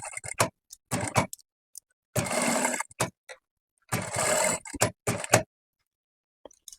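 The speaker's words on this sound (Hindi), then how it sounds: "बिल्कुल हल्के, बिल्कुल सिंपल आराम से सिलाई लगानी है हमने।" Sewing machine stitching a velvet kurti neckline, running in short bursts of rapid mechanical ticking separated by pauses, close and fairly loud with no talk.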